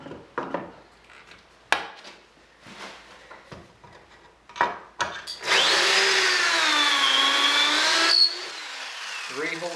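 A power drill bores holes into workbench wood, a sustained whining spin of about three seconds that follows several sharp clunks and bits of talk, then stops abruptly.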